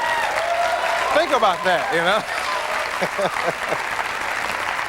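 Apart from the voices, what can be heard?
studio audience clapping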